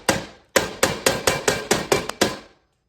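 A meat mallet pounds pork schnitzel under parchment, striking about nine sharp, loud thwacks in a steady rhythm after a first blow and a short pause, each hit ringing briefly before the next.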